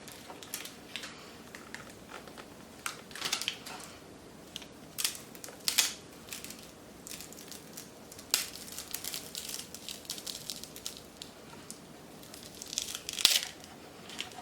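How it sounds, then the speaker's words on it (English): Transfer tape peels slowly off Cricut vinyl on a sign in a string of soft crinkling and tearing crackles, some sharper snaps among them, close and quiet with no talk. "Then we can start lifting that transfer tape off."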